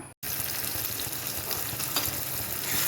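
Tomato frying in a pan gives a steady, close sizzle with stirring scrapes throughout, apart from a momentary silence right at the start.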